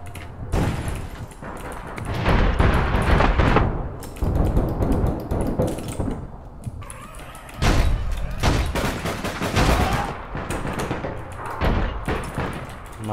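Gunfire in the online shooter APB: Reloaded, with loud bursts of rapid shots in clusters separated by short pauses, close and punchy.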